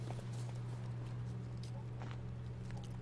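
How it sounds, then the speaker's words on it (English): Horse hooves in The Witcher 3 as the horse follows behind, giving a steady walking clip-clop that stays fairly quiet over a low droning game ambience. "my horse will just follow behind"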